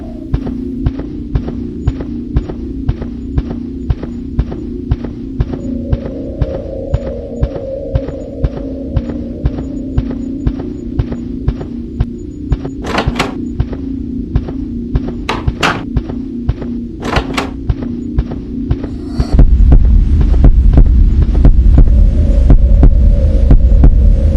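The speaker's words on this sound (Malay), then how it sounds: "Kuat betul bunyi denyutan jantung." A loud, steady heartbeat in the horror game Secret of the Cellar throbs in a regular rhythm over a low hum, with a few sharp thunks partway through and a louder rumble taking over near the end.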